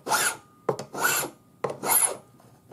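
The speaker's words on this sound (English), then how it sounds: "Now, I'm going to file and sand these sides" Metal file and sanding rasping along the sides of a hammered metal pendant, three close, loud strokes in a steady back-and-forth rhythm with brief pauses between them.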